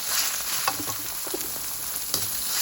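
Minced pork sizzles in a hot pan with onion, a dense steady frying hiss punctuated by soft scraping stirs, close and continuous with no voices.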